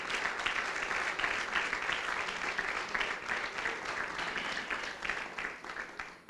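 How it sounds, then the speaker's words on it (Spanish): A church congregation claps along, a steady, moderately loud wash of many hands with a faint rhythmic pulse, continuing without pause across several seconds in a reverberant hall. "Pero aplauda al Señor, que lo veo muy callado."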